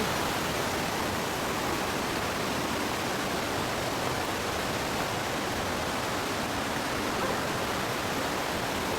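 Steady broadband roar of a waterfall at a tourist spot in Valencia, Negros Oriental, a loud, unbroken rush of falling water that stays constant with no voices heard.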